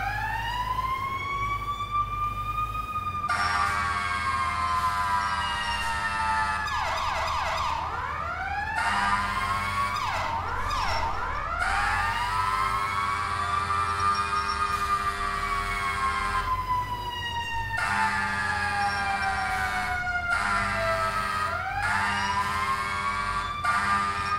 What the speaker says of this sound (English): Siren volume is not very good this game.